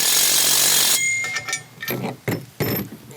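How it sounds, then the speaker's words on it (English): An impact wrench with a 3/4 inch socket tightens nuts while assembling a UTVS16 spreader, starting with a sustained loud hammering burst, then several shorter choppy bursts close by. "I got a 3/4 inch wrench and socket with an impact"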